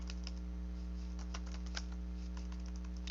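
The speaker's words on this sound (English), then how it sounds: "Can't even see what I'm typing." Keys tapped on a computer keyboard while entering text in a simple text box, an irregular run of soft, close clicks over a steady electrical hum.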